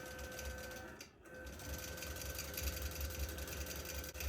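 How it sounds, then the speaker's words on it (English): Domestic sewing machine running steadily while stitching down couching yarn, a continuous low mechanical hum and whir with a brief dip partway through, close and moderately quiet, no talking. "you're just going to feed the yarn to the machine as it is moving"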